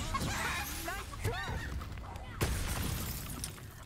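A rock shatters with a crunching smash in Hogwarts Legacy, the game's background sounds running underneath while a voice talks over the scene.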